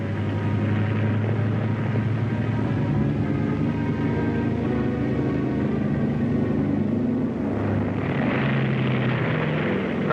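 A B-29 bomber carrying the XS-1 flies along, its propeller engines producing a continuous heavy droning rumble with a steady tone that swells slightly near the end, loud and close throughout with no talk.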